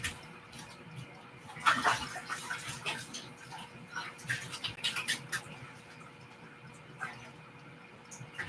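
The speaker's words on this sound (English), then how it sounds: "Just want to wash my hands for a second." Hands being washed under a running tap in a home kitchen, a soft, continuous splash of water with faint intermittent patter, fairly quiet and close.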